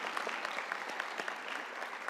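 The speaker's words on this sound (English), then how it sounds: "please give them a round of applause" An audience at a nursing pinning ceremony claps steadily for a couple of seconds, a dense patter of many hands.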